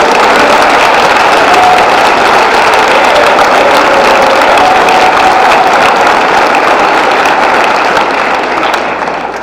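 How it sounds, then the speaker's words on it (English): A large crowd at a high school boys' basketball state championship celebration gives a loud, sustained round of applause, a dense continuous roar of clapping that holds steady before easing at the end. "Let's give him a nice round of applause"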